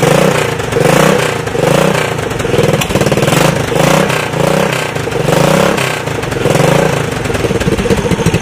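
A Honda TRX200SX ATV engine fitted into a converted 1988 EZGO utility vehicle revs repeatedly, rising and falling in loud, close throttle bursts with mechanical clatter throughout and no talk.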